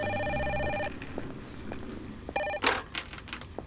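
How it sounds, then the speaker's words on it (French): A telephone rings in two bursts of bright, trilling electronic tones, the second short, with faint footsteps and room noise between and a clattering handling sound after. "Ah, téléphone."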